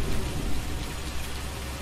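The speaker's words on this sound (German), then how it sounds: "Auch nicht zu erkennen, dass der Regen aufhört." Steady, dense rain in Farming Simulator 19 on the NF Marsch 2.0 map pours continuously and loudly, a broad unbroken wash with a low rumbling undertone, with no talk over it.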